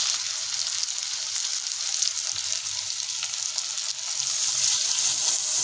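Potatoes and plantain simmer and sauté on a low flame after water is added, a soft, continuous bubbling sizzle with no voices.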